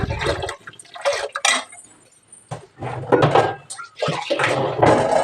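Water poured into a pot of drumstick sambar, splashing and gurgling in uneven bursts with brief clinks and a quiet gap in the middle, heard up close.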